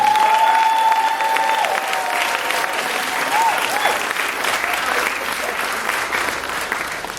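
An audience at a chamber brunch claps warmly and steadily for Senator Walter, the applause fading slightly as it goes on, with a voice briefly audible near the start.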